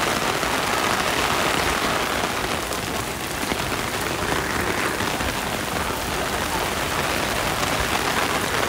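Steady, dense rain pours onto a street in Kabukicho, a continuous close hiss of drops spattering on pavement that never lets up across the whole stretch, with no voices over it.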